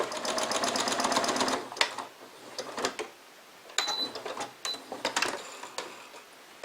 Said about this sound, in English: Now I'm going to sew it in place with a half-inch seam allowance.